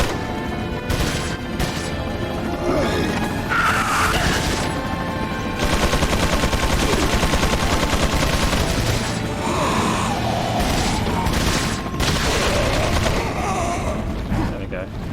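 Enemy machine gun fire in Resident Evil 4 Wii Edition, a dense, loud, continuous rattle of rapid shots mixed with crashes and other game noise, with a voice talking over it at times.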